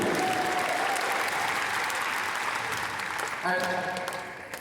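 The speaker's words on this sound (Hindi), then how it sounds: "आपके जोरदार ताली" Loud applause from an audience at an Amway Star Award event. It fills the whole stretch as dense, steady clapping that thins slightly toward the end. A brief tonal sound rises over it near the close.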